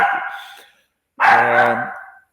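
A dog barks indoors in the background of a talk, two separate drawn-out barks, loud and near, with a pause of silence between them and no speech over them.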